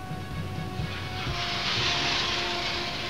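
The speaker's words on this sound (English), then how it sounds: "The F6 aircraft is making its shooting stance" An F6 fighter jet roars through a ground-attack run, a loud steady broadband jet rush that swells slightly midway and holds without a break.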